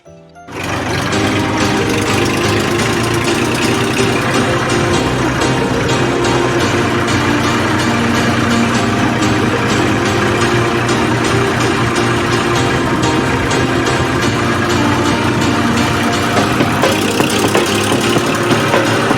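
A tractor engine runs steadily and loudly after a brief start, a constant rumbling drone that continues without pause.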